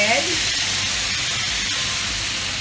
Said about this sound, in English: I'm putting this on medium high because I want to cook these shrimp